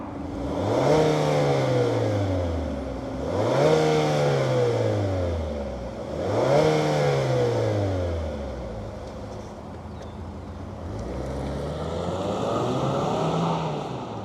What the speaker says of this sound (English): let's fire up this 4-cylinder turbo and see it move.